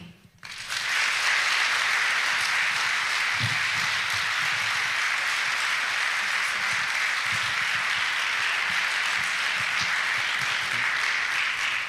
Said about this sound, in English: You shouldn't really applaud me like that to start off with